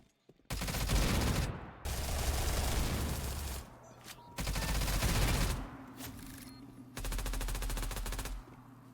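Automatic gunfire from the video game Stalcraft: four loud, sustained bursts of rapid shots, separated by brief pauses, with no talking.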